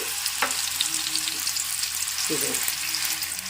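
Continuous close sizzling and bubbling of food frying in hot groundnut oil in a pan, with occasional stirring and no voices.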